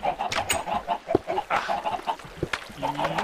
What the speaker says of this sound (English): ravenous chickens.